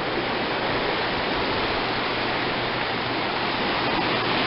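Water rushing from a controlled release at Lake Whitney Dam on the Brazos River in Texas, a steady, loud, unbroken roar that fills the whole clip with no voices.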